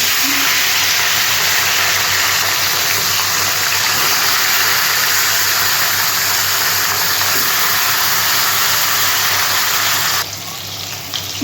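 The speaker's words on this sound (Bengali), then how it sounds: "তেল গরম হয়ে গেছে আমি একটা একটা করে মাছ দিয়ে" Pieces of katla fish frying in hot oil in a kadai, giving a loud, dense, continuous sizzle close up that eases slightly near the end, with no talking.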